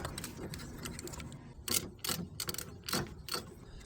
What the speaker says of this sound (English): So now we're going to loosen the bottom one.